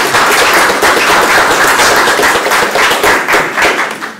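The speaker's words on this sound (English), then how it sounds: "Give them a round of applause." An audience at a community forum applauds, giving dense, steady clapping that stays loud and close for several seconds before tapering slightly at the end.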